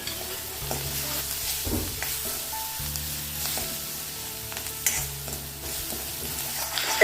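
Onion sizzling and frying in a pan with ginger garlic paste, stirred steadily with a spoon scraping, a continuous close sizzle with no talking.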